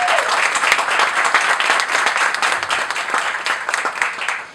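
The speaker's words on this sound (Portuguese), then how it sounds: "uma salva de palmas para ele." Applause from an audience at a hospitality talk fills the space as a dense, continuous wash of many hands clapping, loud and close, steady throughout with no speech over it.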